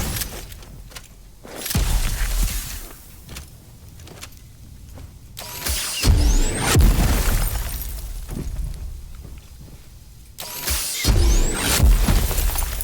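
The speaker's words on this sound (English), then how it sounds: "Use frost grip to shatter enemies at close range." Frost grip ability shattering enemies at close range in the game Daymare: 1994 Sandcastle, giving loud icy bursts and breaking crashes in two or three heavy clusters, separated by quieter rumbling stretches of game audio.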